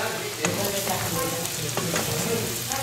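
Chopped kale sizzles and crackles in a hot pan for feijão tropeiro, a loud continuous frying hiss with a few sharp stirring scrapes and clacks.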